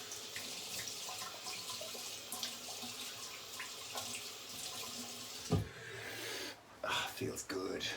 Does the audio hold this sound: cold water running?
yes